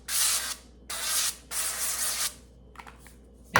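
Cooking spray hisses into a baking pan for keto blondies in three close, steady bursts, the last one longest, followed by a few light clatters of the can or pan.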